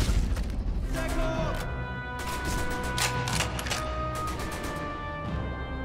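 In Sniper Elite V2 Remastered, repeated booming gunshots and bursts fire throughout over a dense, loud battle background, with people talking over the action.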